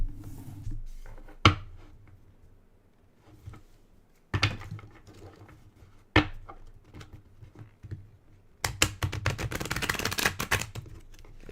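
A large deck of cards being shuffled by hand, a few sharp isolated snaps and riffles followed by a dense, fast rattling burst near the end, close and crisp in a quiet room.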